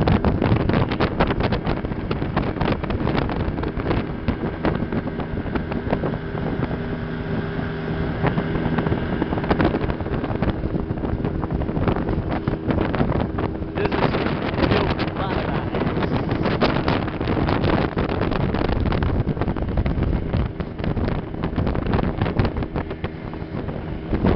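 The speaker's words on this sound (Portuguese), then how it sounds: "ventando muito. Tá bravo." Strong, gusting wind buffets the microphone out on a fishing boat, a continuous heavy roar mixed with a motor's drone and water noise, with no pause across the whole stretch.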